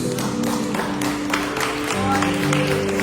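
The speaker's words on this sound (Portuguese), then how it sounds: "Você pode aplaudir a Jesus" A church congregation claps and applauds at a service, a dense steady patter of many hands at moderate distance, with faint organ or keyboard chords sustaining underneath.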